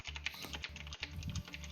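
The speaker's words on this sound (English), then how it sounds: "Sorry for the typing being loud" Computer keyboard typing during an online tabletop game session, quick irregular key clicks and clacks in short bursts, close but fairly quiet, with no talking.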